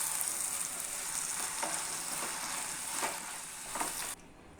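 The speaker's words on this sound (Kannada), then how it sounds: "ನಾನು ಇವಾಗ ಇದನ್ನು ನೀಟಾಗಿ ಮಿಕ್ಸ್ ಮಾಡಿ 1-2 ಮಿನಿಟ್ಸ್ ಇದನ್ನು ಫ್ರೈ ಮಾಡ್ಕೊಂಡಿದ್ದೀನಿ" Vegetables for hakka noodles, seasoned with vinegar and black pepper, fry in a pan with a steady, bright sizzle. A few soft stirring scrapes break the sizzle before the sound drops away abruptly near the end.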